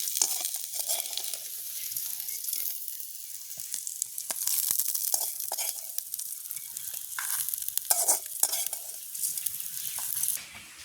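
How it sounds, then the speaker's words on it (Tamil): Ingredients sizzle and crackle steadily in a pan over a village cooking fire, with a continuous hiss and occasional stirring scrapes throughout, close and fairly loud, with no talk. "எல்லாத்தையும் சேர்த்து பொறிப்போம் நல்லா பொறி போட்டு நாங்கள் இதை இறக்குவோம்"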